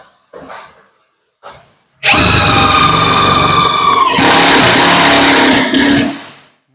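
A J-LD JV88 48V cordless impact wrench working on a 2.5 mm plate: two brief soft knocks, then a loud, steady whirring hammer lasting about four seconds that grows harsher and more intense before stopping.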